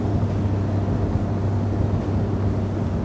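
A 2022 Nitro Z21XL bass boat's outboard engine runs steadily at about 3,400 RPM, a loud, continuous low drone with wind and water rush, no pauses.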